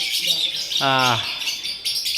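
Birds in an aviary at a Darjeeling zoo chirp and tweet close by, with one clear tonal call standing out briefly over a busy background of twittering.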